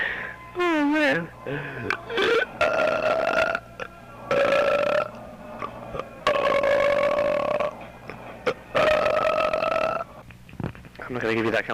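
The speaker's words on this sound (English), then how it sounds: "I'm just burping a bunch of times because I want you to hear it." A woman burps deliberately many times in a row, loud and close, with long drawn-out croaking belches separated by short pauses and a few brief gasps between them.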